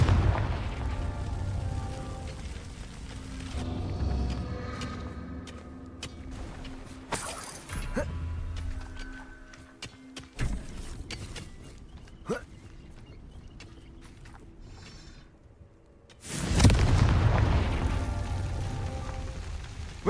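Confringo blasting spell in a Harry Potter video game, with several sharp bursts and booming blasts spread over the clip and a loud explosive roar near the end, over low game ambience.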